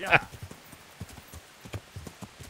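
Horse hooves clip-clopping at a steady walking rhythm in the video game Kingdom Come Deliverance, close and fairly quiet, opening with a brief sharp sound.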